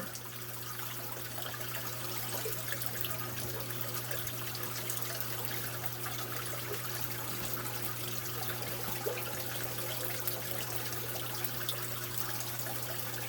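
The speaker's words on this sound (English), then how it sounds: "Hose fell out of the bucket. I just dumped water all over the floor." Water spilling from an aquarium hose that fell out of a bucket onto the floor during a brackish tank water change, a steady trickling splash with a constant low hum beneath, faint and continuous without talk.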